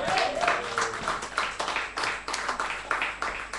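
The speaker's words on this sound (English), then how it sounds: "Give her a big round of applause" Scattered clapping at a live music venue for a performer, a modest audience clapping in uneven bursts at moderate volume, with a brief voice near the start.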